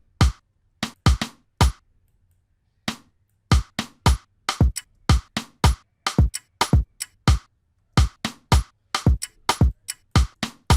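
Afro salsa percussion loop: sharp, dry hits in a syncopated, repeating pattern, loud and isolated against silence with no talking.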